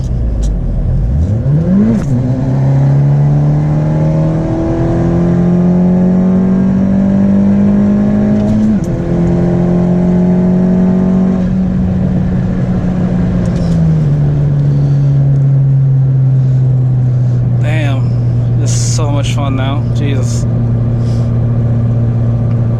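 A big-turbo Honda Civic FK7 Sport hatchback pulls hard through the gears, its engine note climbing steadily, dropping at each shift and rising again, loud and close from inside the car, with brief turbo whooshes and a short spoken exclamation.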